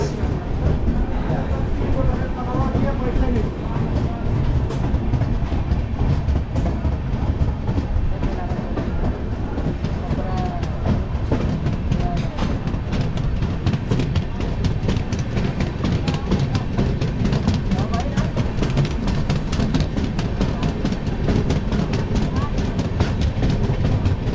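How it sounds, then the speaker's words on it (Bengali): Superfast express train pulling out of platform three and running on rails, a steady loud rumble with rhythmic clickety-clack of wheels throughout, with faint voices in the background. "এই স্টেশনের তিন নম্বর প্ল্যাটফর্ম থেকে আমাদের ট্রেন ছেড়ে দিল"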